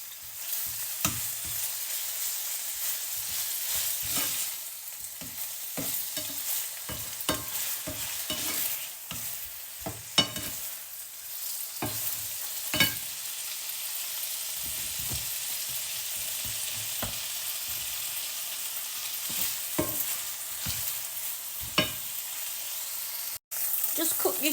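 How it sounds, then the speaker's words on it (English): Chicken frying in a little sunflower oil over medium heat, a continuous close sizzle broken by frequent scraping and stirring clicks from a utensil in the pan. "I'm just frying it in a little bit of sunflower oil."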